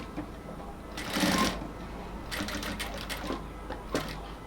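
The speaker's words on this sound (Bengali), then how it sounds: "এবার পুরো কলারটাকে আমরা হচ্ছে আবার সেলাই করে যাব।" Sewing machine stitching a band collar on a shirt, with short rapid bursts of mechanical clatter separated by quieter pauses, close and clear.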